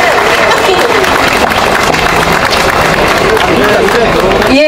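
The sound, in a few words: crowd applauding a speaker at a campaign rally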